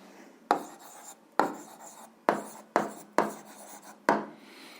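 A pen writes on paper while an algebra answer is noted down, six separate short scratchy strokes sounding close and quiet, each one starting sharp and fading, with silence between them.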